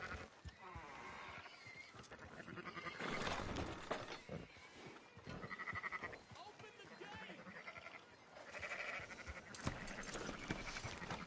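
Sheep bleat repeatedly in the Red Dead Redemption 2 video game, wavering calls layered over one another with game ambience and a voice talking throughout.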